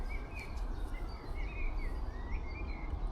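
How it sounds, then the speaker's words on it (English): Birds chirp in short repeated calls across a meadow on a sculpture trail near Manchester, soft and a little distant over a low background hum of faraway town noise, with no voices. "all I can hear apart from that is birdsong, and I'm walking in a meadow"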